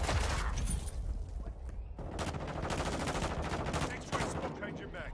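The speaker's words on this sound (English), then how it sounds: "Enemy fire." Enemy gunfire in a military shooter, with bursts of rapid automatic shots and crackling fusillades at close to middle distance, loud and continuous, broken by a short lull and a faint voice.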